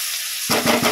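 Onions frying in a pan with sugar and salt hiss and sizzle loudly at close range, starting abruptly in a brief burst.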